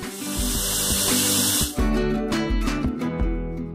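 A pressure cooker on high flame cooking soaked beans with salted water hisses steadily with spraying steam, then shifts into a rhythmic, pulsing release, loud and close with no talk.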